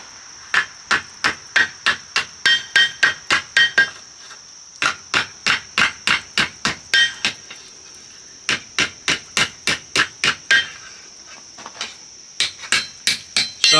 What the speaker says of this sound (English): as I hammer this out